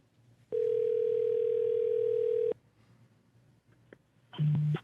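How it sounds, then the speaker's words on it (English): A telephone line tone on an outgoing call: one loud, steady, unbroken tone lasting about two seconds, a quiet gap, then a shorter lower-pitched tone burst at the end. "Well, let's call Henny."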